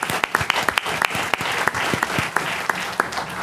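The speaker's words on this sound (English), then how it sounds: "I just want you all to join me in an applause for recognizing them" At a town hall meeting on Medicaid expansion, the audience applauds council members with lively, sustained clapping and crisp individual claps standing out, close and fairly loud.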